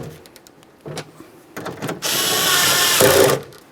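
A power tool tightens 11mm nuts on the window motor of a 2001-2005 Ford Explorer Sport Trac: a few clicks and short handling noises, then a loud, close whirring burst lasting about a second and a half.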